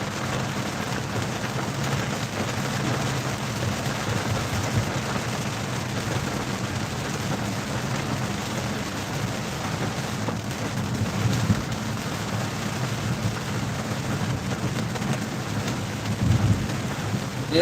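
Steady heavy rain pours through a thunderstorm, with low rumbles of thunder rolling under the constant hiss, no talk, continuous throughout.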